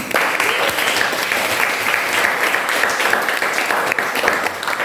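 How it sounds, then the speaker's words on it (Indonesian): A classroom of high school students gives a sustained round of applause for eight presenting groups, loud, dense clapping that stays even from start to finish. "Oke, beri tepuk tangan dulu untuk 8 kelompok yang sudah maju hari ini."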